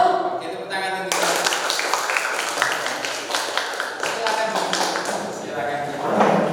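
A class of schoolchildren claps hands together in a counting game, bursts of sharp, close slaps repeating in a steady rhythm throughout, with voices mixed in.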